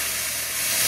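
Cheese sizzles in a hot frying pan, a loud, even hiss of frying that holds steady and close throughout without pause.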